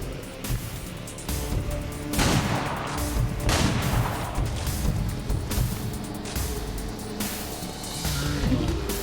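Gunfire in the video game XCOM 2, a run of loud, punchy shots and booming bursts spaced through the stretch over a constant rumbling background, with no talk heard.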